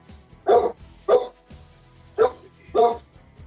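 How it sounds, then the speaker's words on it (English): A dog guarding a property at night barks four times in separate deep, loud bursts spaced roughly a second apart, close by, with a quiet room background and no talking. "My dog is guarding the property tonight."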